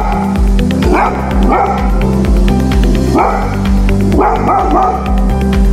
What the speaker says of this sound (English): In our opinion, both the dogs have a powerful bark